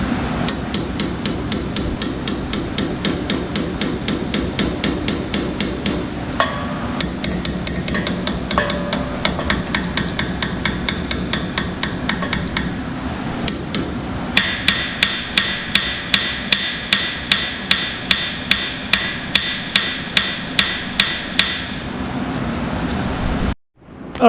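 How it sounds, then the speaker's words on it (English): Rapid metallic hammer taps on the engine head of an International Super A tractor, striking in a steady rhythm with brief pauses, loud and close, ending with a final sharp bang. "I was tapping with the hammer and it started moving"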